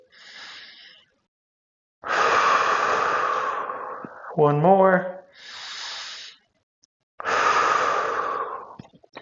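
Deep, slow breaths drawn in and pushed out during a seated neck stretch in a senior golf flexibility routine, several long airy exhales close to the mic, with a short spoken count between them.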